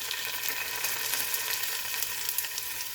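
Vegetables for borscht sizzle steadily in a pot just before tomato paste goes in, a dense, even frying hiss that runs alone throughout.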